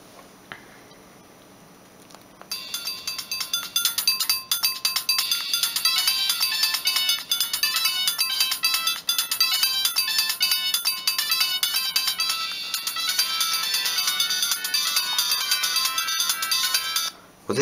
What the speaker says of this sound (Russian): Вот эти мелодии из Sony Ericsson T610.